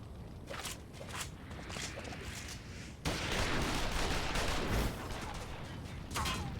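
Gunfire in Final Fantasy XIV Stormblood: scattered shots and mechanical clatter at first, then a louder burst of rapid firing in the middle, with footsteps and battle ambience throughout.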